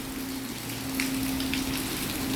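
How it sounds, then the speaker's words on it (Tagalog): Heavy rain pours down in South Korea, a steady dense hiss of falling water with a faint low drone running beneath it and no voices. "Grabe na yung ulan, lakas ng ulan."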